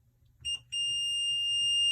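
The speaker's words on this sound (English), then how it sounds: "When you hear that long beep, that means it works." Kwikset smart lock keypad gives a short electronic beep, a brief pause, then one long steady high-pitched tone, loud and close with no talk over it.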